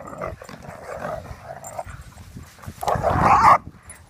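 A dog grumbles and whines softly in short bursts, rising into a louder growling whimper near the end, close by.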